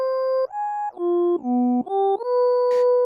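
A synth lead patch plays a slow run of sustained, muffled notes that step down and back up, each tone topped by one high shimmery harmonic, clean and alone.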